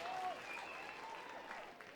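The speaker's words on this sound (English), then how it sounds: "ovation from the home crowd here at Gulls Field" A home crowd at a baseball game at Gulls Field applauds, with steady, fairly distant clapping and cheering under a commentator's voice.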